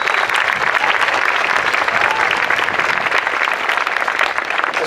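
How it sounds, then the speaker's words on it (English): A large audience gives a sustained round of applause at a talk event, with dense, even clapping throughout and a faint murmur of the crowd. "Round of applause to Motaz and Azaiza."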